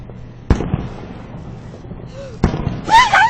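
Fireworks bursting outdoors: two sharp loud bangs about two seconds apart, followed by crackling and whistling sparkle, with voices faintly in the background.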